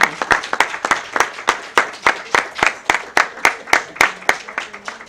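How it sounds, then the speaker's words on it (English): A small group claps in a round of applause at a town board meeting, each clap crisp and distinct in a brisk, fairly regular rhythm, close and clear with no talk over it. "So, round of applause."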